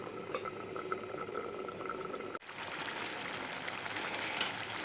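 Tamarind pachadi of bitter orange simmering in a pan, a soft steady bubbling that jumps to a louder, brighter hiss partway through and keeps going without talk.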